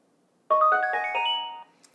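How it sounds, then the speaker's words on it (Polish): A Blitzwolf BW-F3 Bluetooth speaker gives a short, loud pairing chime, a quick rising sequence of tones that ends in a sustained note before cutting off. "dosyć głośny sygnał informuje nas o tym, że głośnik już jest"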